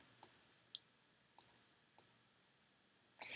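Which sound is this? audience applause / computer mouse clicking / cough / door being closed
computer mouse clicking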